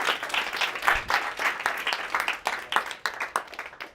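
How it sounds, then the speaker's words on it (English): An audience applauds through the whole stretch with dense, even clapping at a moderate level and no talk over it. "Give yourselves a big round of applause."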